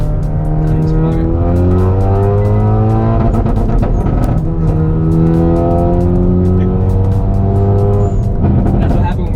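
A 2021 Hyundai Veloster N engine revs hard and bounces off the rev limiter. It gives a loud, repeated stuttering pulse at the top of the revs, with falling and rising harmonic sweeps across the whole stretch.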